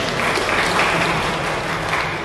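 An audience claps at a church synod meeting at Wisma Oikumene in Sukabumi, a steady wash of applause from a crowd in a hall.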